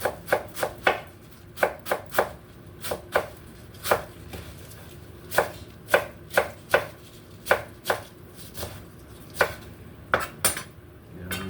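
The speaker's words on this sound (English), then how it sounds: "So I'm getting my cabbage ready." Cabbage being chopped with a knife on a board for a Sunday dinner: a long run of sharp, close thuds in an uneven rhythm with short pauses, clear and alone with no talk.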